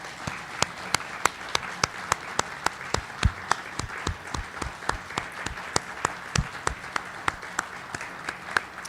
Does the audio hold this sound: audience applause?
yes